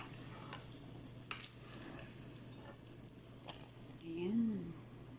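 Ground meat fries in a pan with a soft, low sizzle and the occasional stir, faint and steady beneath a person talking.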